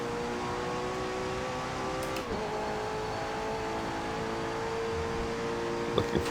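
A McLaren Senna racing at Monza in Forza Motorsport 7 drones with a steady, high engine whine, dipping briefly in pitch as it shifts, then holding on, fairly quiet with no talk.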